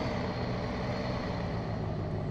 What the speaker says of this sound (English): This truck will not go through this door.